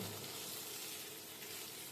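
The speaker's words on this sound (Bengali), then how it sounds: "এগুলোকেও একটু সটে করে নেবো।" Green chillies for restaurant-style chilli fish are sautéed over high flame, giving a constant, fairly quiet hiss of frying oil that holds steady throughout with no talking.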